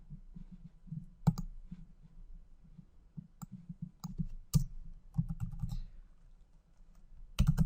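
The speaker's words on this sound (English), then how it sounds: "type in the following to add arguments to" Clattering keystrokes on a computer keyboard as Python code is typed into a tutoring tool, an irregular run of close, crisp clicks with a few louder key strikes and brief pauses.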